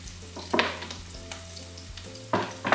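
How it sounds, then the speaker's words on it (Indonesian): Onion sautés in hot oil for a savory soup of shrimp, tofu and basil, with a steady sizzle broken by two sharp bursts of stirring scrapes near the pan. "setelah minyaknya panas, kita tumis terlebih dahulu bawang bombay"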